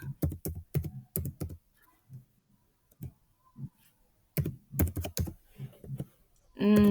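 Keys on a computer keyboard tapped in quick clusters while keyword and bid entries go into Google Ads Keyword Planner; short bursts of clicks separated by pauses, ending in a brief sustained tone.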